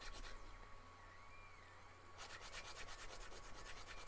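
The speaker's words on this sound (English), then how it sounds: "So we also want to just give this a bit of a rub over" Edges of a part for an open-source RC tractor build rubbed over by hand, a soft continuous scratchy rasp that turns into quicker, rhythmic back-and-forth strokes partway through.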